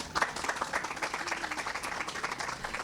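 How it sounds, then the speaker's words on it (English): Audience at a health center building dedication breaks into applause, a fairly quiet but steady patter of many hands clapping that continues throughout. "Help me thank them with a round of applause"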